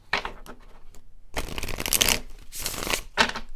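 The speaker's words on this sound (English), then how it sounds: "I'm hearing that I should do a shuffle." Tarot cards being shuffled in several quick riffling bursts separated by short pauses, crisp and close up.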